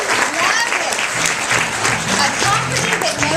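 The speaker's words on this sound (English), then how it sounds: "That deserves a round of applause." Audience applause at a corporate gathering, a dense steady wash of many hands clapping that fills the whole stretch at close, even loudness, with a faint voice underneath.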